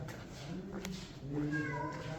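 Cat meowing on a rooftop along the Via Dolorosa in Jerusalem, a drawn-out meow rising over quiet background voices and street ambience, fairly faint.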